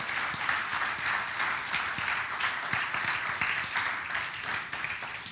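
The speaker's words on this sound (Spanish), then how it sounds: "Denle un aplauso a Jesús." Sustained applause from a large church congregation, steady dense clapping filling the whole stretch at a fairly loud level.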